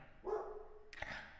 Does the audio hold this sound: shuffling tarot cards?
no